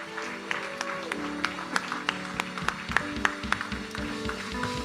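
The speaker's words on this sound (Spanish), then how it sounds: "Vamos a darle un aplauso al Señor en esta noche." Applause from a church congregation closing an evening service, irregular clapping with sharp individual claps standing out, along with some voices and tonal sounds underneath.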